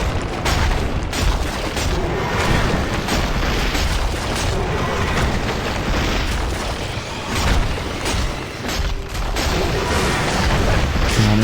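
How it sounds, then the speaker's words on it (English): Artillery fire in the Dungeon Siege 2 beach assault at Morden thunders as loud, dense booms and blasts that roll on almost without pause over a thick battle din. "they just got taken out by some artillery"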